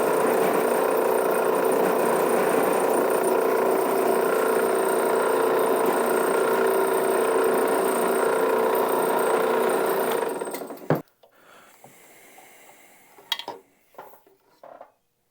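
A drill press boring through a pin and sleeve, a steady loud mechanical whir with metallic cutting noise that runs for about ten seconds, then stops abruptly, followed by faint clinks and handling sounds.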